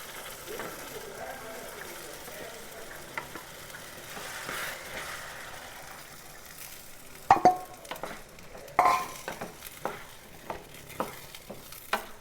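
Cooked cowpeas (alasande) are stirred in a frying pan, with a low background sizzle that gives way to sharp, irregular scrapes and clacks of the spoon against the pan, while someone talks.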